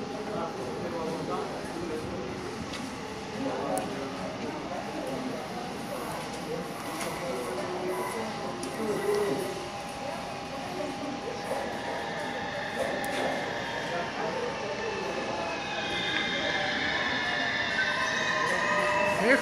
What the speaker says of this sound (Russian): поезд едет.